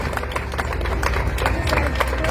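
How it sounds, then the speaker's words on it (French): A festival audience at a western-themed show applauds the performers with dense, continuous clapping that stays loud and even, with crowd voices mixed in. "On peut les applaudir, mesdames, messieurs."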